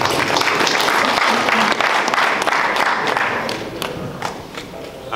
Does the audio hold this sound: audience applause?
yes